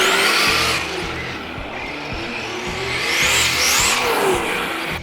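A simulated engine whine from an RC truck's onboard audio system rises and falls continuously, with tire noise and rough rumble underneath, loud and close throughout.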